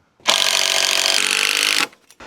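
A power drill drives a screw into wood during a tiny home build, giving one close, loud whirring burst of about a second and a half that ends abruptly, followed by faint clicks.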